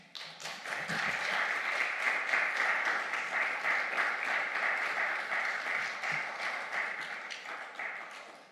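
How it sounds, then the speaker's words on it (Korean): A church congregation claps in sustained, steady applause to welcome a guest speaker at a Sunday service, a dense wash of hands lasting the whole stretch and tapering slightly at the end. "함께 온라인에서도 박수로 환영해 주시면 감사하겠습니다"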